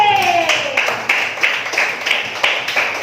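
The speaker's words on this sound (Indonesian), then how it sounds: "Tepuk tangan untuk 6C." Classroom students clap for a sixth-grade class group in a crisp, evenly spaced rhythmic pattern, about three claps per second, close and loud.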